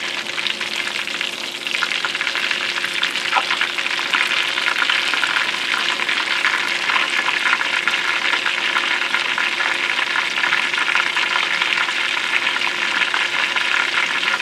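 Southern-style chicken pan frying in hot oil, a loud, steady, dense sizzle and crackle that runs without pause, with no voices.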